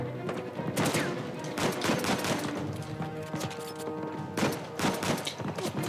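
Rapid bursts of enemy gunfire in Uncharted 4 crackle continuously, with dense volleys and sharp shot clusters that swell and fade across the scene, loud and close.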